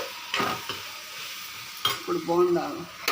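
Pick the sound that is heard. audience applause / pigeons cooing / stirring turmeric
stirring turmeric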